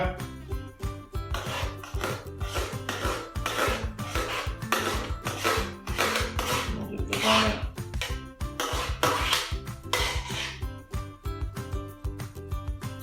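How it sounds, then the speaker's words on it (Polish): Ingredients for an ice-cream cheesecake stirred and mixed in a bowl, a repeated rhythmic scraping and rubbing of a utensil against the bowl, close and fairly loud, with occasional clinks. "No i znowu mieszamy. Składniki nam się wymieszały."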